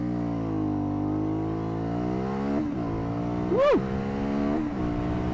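Aprilia Shiver 900 motorcycle in sport mode with traction control off, engine revving hard through rising harmonics, a brief gear-change dip, then climbing again; a loud close exclamation cuts in near the end.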